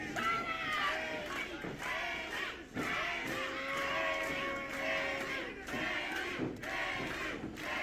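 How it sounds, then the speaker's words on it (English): A crowd at a women's wrestling event chants and cheers for Haley, a loud sustained mass of voices rising in rhythmic waves, filling the whole stretch with no single speaker standing out. "Crowd getting behind Haley here."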